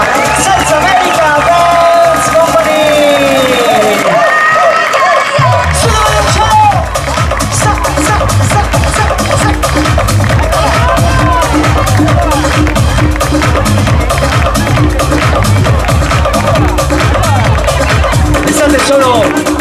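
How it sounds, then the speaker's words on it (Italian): A large audience at a salsa dance show in Vicenza claps and cheers loudly and without a break, a dense wash of applause with crowd noise under music. "incoraggiamoli con un fortissimo applauso"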